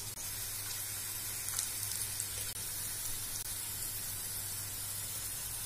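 Bitter gourd pieces fry in oil with turmeric and salt, giving a steady, even sizzle and hiss that runs the whole time at a moderate level, with a low hum underneath and no talking.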